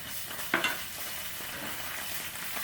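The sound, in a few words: curry paste frying in hot oil in a pan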